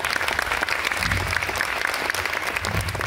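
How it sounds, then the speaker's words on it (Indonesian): A film festival audience gives a sustained, dense round of applause that stays steady and loud throughout, with faint crowd murmur underneath. "Tepuk tangan dong."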